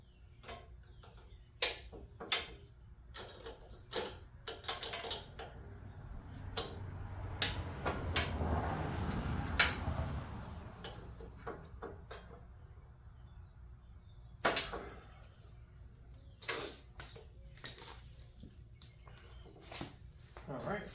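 A 17mm wrench tightens bolts on a portable car lift in a shop, making sharp metallic clicks and ratcheting ticks in irregular bursts, close by, with a stretch of louder rustling noise midway.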